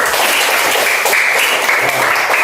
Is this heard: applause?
yes